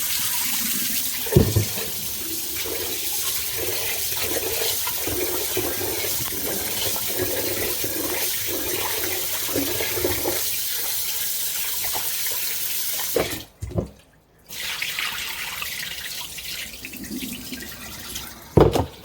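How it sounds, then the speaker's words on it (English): Tap water runs steadily into a kitchen sink while rice is rinsed, with a continuous splashing gush, brief clatter and pauses as the grains are swished, close and fairly loud, with no voices. "The fun part of cooking rice is right here, washing it."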